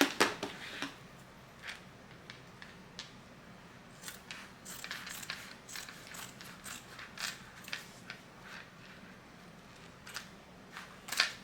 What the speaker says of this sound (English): Cut some of that off right now.